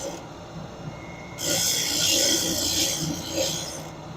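A saw blade is face ground with a 400 grit diamond wheel, a steady rasping grind that swells louder partway through and carries on to the end.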